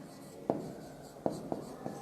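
Pen writing a balance b/d entry in a cash book, four short scratchy strokes with pauses between them, close and fairly quiet.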